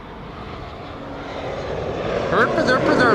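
An airliner arrives at Amsterdam Schiphol Airport from Bristol, its engine roar building steadily and growing louder toward the end, with voices talking over it.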